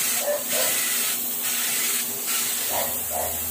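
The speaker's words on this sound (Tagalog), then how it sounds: "So guys, pinipinturahan ko na. Ano, pa-spray para maganda, makinis." Paint sprayed onto a countertop before formica laminate goes on, a steady loud hiss with a few short pulsing bursts, close and continuous, with no voices.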